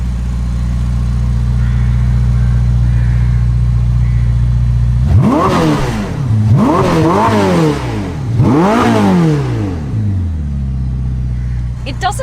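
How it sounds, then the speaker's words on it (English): A Ferrari SF90 plug-in hybrid with a 4-litre twin-turbo V8 sits at a low idle rumble, then blips through three sharp, loud revs, each rising quickly and falling back before settling to idle. "So what does the most powerful Ferrari sound like?"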